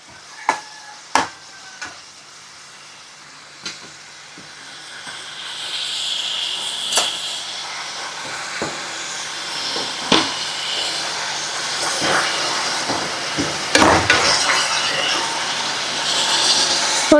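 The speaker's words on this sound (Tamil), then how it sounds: "வெங்காயம் போட்டு ஒரு 2 நிமிஷம் நல்லா வதக்கு." Chopped onions sauté in a hot pan for dry fish thokku, giving a steady hissing sizzle broken by occasional sharp clicks and knocks of stirring.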